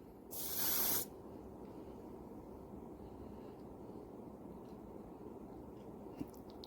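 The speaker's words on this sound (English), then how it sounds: "This is just some body spray." A single short hiss of an aerosol body spray, close and loud, followed by the steady low hum of a Winix 5510 air purifier.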